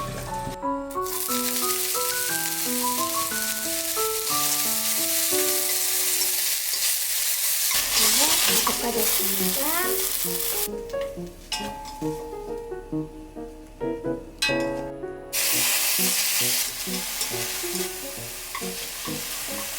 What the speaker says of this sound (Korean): 이렇게 고기가 어느 정도 볶아졌으면